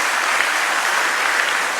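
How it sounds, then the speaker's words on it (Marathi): Dense applause from an audience at a prize event honouring a teacher, a steady even roar of many hands clapping with no pauses. "एकदा नागवेकर सरांसाठी जोरदार टाळ्या आपण देऊया."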